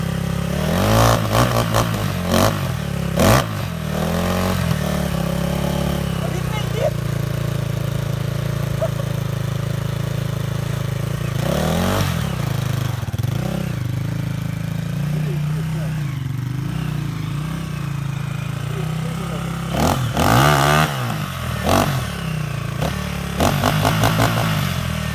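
An air-cooled KOVI Lite 250 motorcycle engine idles loudly nearby, then revs sharply in several bursts with a throaty exhaust roar, with someone talking over it.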